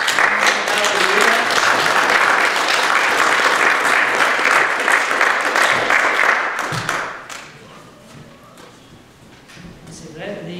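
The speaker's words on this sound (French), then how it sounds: "Alors, acclamons le Seigneur ce matin." Church congregation applauding and cheering to acclaim the Lord, a loud sustained wash of clapping mixed with voices for about seven seconds before fading to quieter talk.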